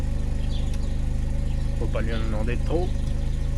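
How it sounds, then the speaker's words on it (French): The four-cylinder engine of a 1978 Honda Accord first-generation sedan idles close by with a steady low rhythmic thrum, while someone talks over it. "est-ce que ce petit 4 cylindres chante?"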